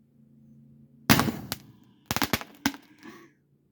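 A 40mm launcher fires a golf ball straight up into the air on a range: a loud blast, then a quick cluster of sharp cracks and pops with a faint trailing rumble, heard alone over a low background hum.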